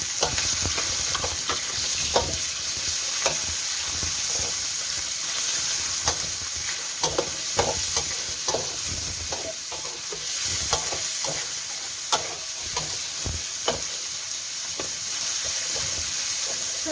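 Pork belly being stir-fried with garlic in a pan: a steady, fairly loud sizzle broken by frequent sharp scrapes and taps of the spatula against the pan, close up with no talking.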